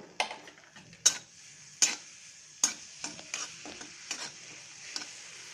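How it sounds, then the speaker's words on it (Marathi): Green chili, garlic and ginger paste frying in a spoonful of oil, a soft sizzle under sharp spoon clicks and scrapes against the pan, recurring every second or so, close up. "याला 1 मिनिट आपल्याला फ्राय करून घ्यायचं आहे"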